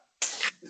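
A single quick sneeze bursts out in a room during a lively comedic conversation, a breathy, sharp blast followed by a softer trailing exhale.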